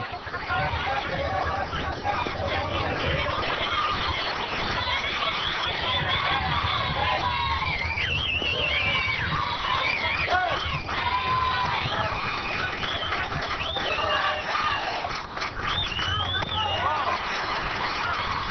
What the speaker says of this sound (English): There's quite a cheering section here for West Cumberland, New Jersey